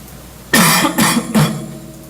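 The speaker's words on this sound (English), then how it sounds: "I do have a slight cough." A person coughs three times in quick succession, loud and close to the microphone, each burst harsh and breathy, with no speech around it.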